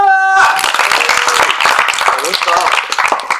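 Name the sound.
audience applause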